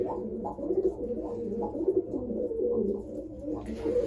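Pigeons kept in a home loft, mostly females, coo in a continuous low, throaty, rolling chorus, close by and steady throughout with no talk.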